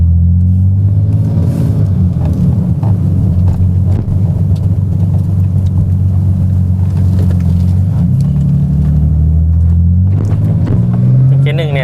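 Toyota Supra with automatic transmission held in first gear, engine droning loud and close with a deep rumbling tone that rises and falls through several revs, pitch climbing sharply near the end.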